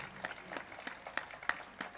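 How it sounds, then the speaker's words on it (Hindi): An audience at a Rajasthani dance performance in New Delhi claps in welcome as the dancer is called to the stage, giving a brief, moderate patter of applause. "आप लोग ज़ोरदार तालियों से इनका स्वागत करें"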